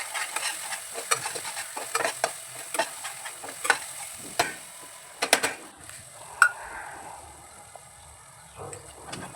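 Fried onions with ginger-garlic paste stirred in a hot pan for chole, with a steady close sizzle and repeated sharp scraping clicks of the spoon against the pan throughout.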